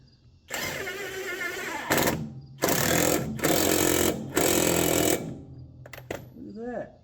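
An Alloyman half-inch cordless impact wrench with a 4.0Ah lithium-ion battery works on a riding mower blade, firing four loud, close hammering bursts separated by short pauses, followed by faint handling noise.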